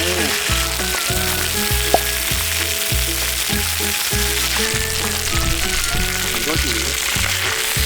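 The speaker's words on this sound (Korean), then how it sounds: "아, 이게 확실히 코팅돼 있으니까 조리하기가 쉽구나" Food fries in a coated pan at a windy seaside campsite, giving a continuous loud sizzle broken by rhythmic scraping and stirring clatter, with a brief voice over it.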